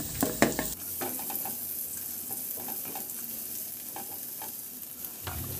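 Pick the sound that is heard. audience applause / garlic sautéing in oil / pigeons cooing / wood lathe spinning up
garlic sautéing in oil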